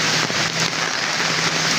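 Steady rain falling outdoors during a hot spell makes a loud, continuous broadband wash with no breaks, joined by a faint low hum and no talking.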